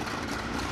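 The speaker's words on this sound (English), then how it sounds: "When that engine fired," The vintage Black Beast race car engine runs in a brief steady loud low rumble, close by, with no talking.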